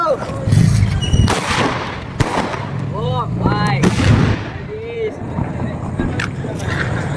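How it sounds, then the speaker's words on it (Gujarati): Diwali double-blast firecrackers go off in several sharp, loud bangs spread across the stretch, echoing outdoors, while someone talks and calls out between the blasts. "ત્રણ ધડાકા થઈ ગયા ત્રણ."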